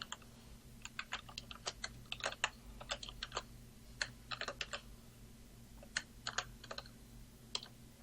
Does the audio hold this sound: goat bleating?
no